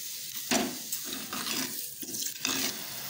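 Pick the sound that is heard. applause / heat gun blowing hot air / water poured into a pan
water poured into a pan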